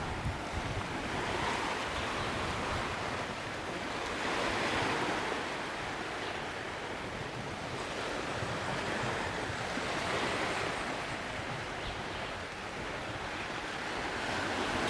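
Ocean waves wash steadily onto the beach at Paradisus Río de Oro Resort at low tide, with rocks exposed, on a calm early morning. The surf makes a continuous broad roar that swells and eases, with some wind noise on the microphone and no voices.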